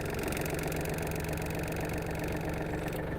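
A Yanmar AF-324 mini tractor engine runs steadily, a dense continuous mechanical drone with a faint tonal hum, constant in level and nearby, no voices.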